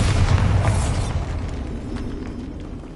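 A Bombarda spell blast in the Hogwarts Legacy game erupts as a deep, loud boom at the start, its rumbling body slowly fading over a few seconds with scattered debris-like crackles.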